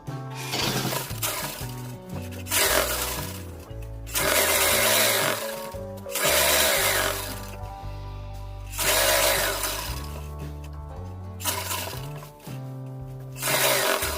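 A sewing machine runs in long stitching bursts along a pajama seam, loud and close, with short pauses between runs and a steady mechanical whir, no talk.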